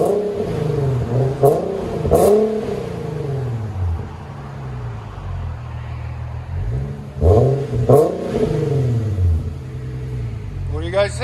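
2014 Infiniti Q50 with a 3.7L V6 and dual Flowmaster Flow FX exhaust revving, loud nearby blips that rise and fall sharply with two clusters of quick throttle stabs over a deep idle rumble.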